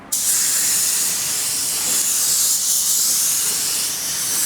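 A steady, loud hiss of a paint spray gun spraying paint on a door at normal pressure, starting abruptly and holding even throughout with no voices.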